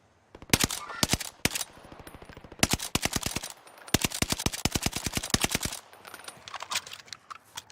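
Automatic gunfire in the battle royale video game Warzone, several long loud bursts of rapid shots close by with short gaps between them, then quieter distant shooting at the end, with no talk.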